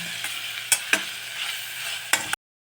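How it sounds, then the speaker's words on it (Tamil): Spices and chilli powder sauté in a pan with a soft, steady sizzle as a spoon stirs, giving a few sharp metallic clacks against the pan before the sound cuts off abruptly. "இப்போ இதெல்லாம் பச்சை வாசனை போகிற அளவுக்கு நல்லா வதக்கிடலாம்."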